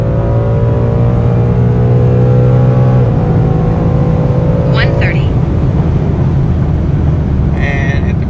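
Tuned car with an HP Tuners datalogger connected, driven at full throttle on a half-mile run, its engine note droning loud and steady with a pitch shift partway through as it keeps pulling, plus brief higher squeals near the end.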